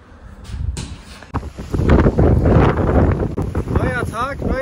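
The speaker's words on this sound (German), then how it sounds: "Heute windig wie die Sau. Der Sturm." Strong stormy wind in Spain buffets the microphone in loud, roaring gusts, with a voice speaking briefly underneath toward the end.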